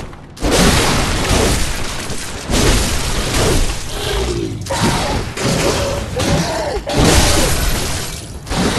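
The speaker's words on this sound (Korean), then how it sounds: "아, 총까지 쏜다." An enemy fires a gun in Bloodborne, with loud, sharp blasts and heavy impacts recurring every second or so amid chaotic combat noise, while someone speaks and exclaims over it.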